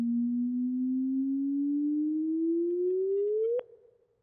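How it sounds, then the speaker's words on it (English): Simulated gravitational-wave signal from a normal black hole merger: a steady pure tone slowly rising in pitch for over three seconds, ending in a sharp upward chirp and quick fade. "there's that nyip. That's the chirp. Chirp is the hallmark, the calling card of merging black holes."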